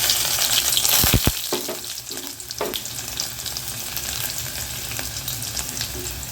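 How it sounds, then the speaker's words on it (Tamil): Fennel seeds, dried chili and crushed garlic fry in oil with a bright, steady sizzle, a couple of sharp knocks from a spoon early on, then an even, close crackle that softens slightly. "இந்த பாருங்கள், பெருஞ்சீரகம் நல்லா பொரிஞ்சிருச்சு"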